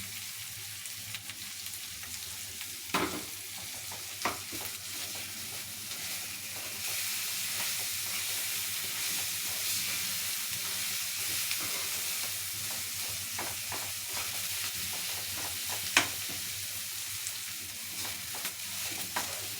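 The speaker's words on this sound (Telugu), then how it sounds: "తొందరగా మంచిగా ఫ్రై అవుతుంది." Sliced bitter gourd and onion fry in a pan with a steady close sizzle, broken by a few sharp stirring clinks and scrapes and no talking.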